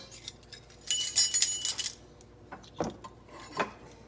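A set of metal measuring spoons clinks and jangles together while being sorted in a kitchen during baking, a bright rattling burst lasting about a second followed by a few separate light clinks.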